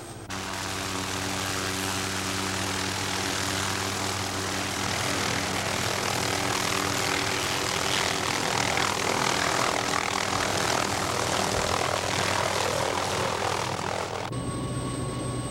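Helicopter carrying loads of salmon fry to stock the Exploits River, its rotor and engine drone steady, loud and close for about fourteen seconds before cutting off abruptly.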